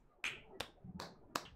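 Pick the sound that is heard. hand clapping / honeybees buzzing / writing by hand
hand clapping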